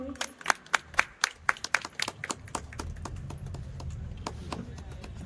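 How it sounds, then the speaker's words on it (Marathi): At a Women's Day felicitation held by a housing society and women's organisation, a few people clap sharply and rhythmically for about two seconds, then the room settles into a low, murmuring crowd hum. "जोरदार टाळ्या होऊन जाऊ दे"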